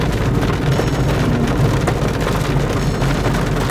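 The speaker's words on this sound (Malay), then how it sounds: "Hujan besar-besar sahabat." Heavy rain pours steadily in Kuala Lumpur, a loud, dense hiss of drops drumming on surfaces that fills the whole stretch without letting up, with a low rumble underneath.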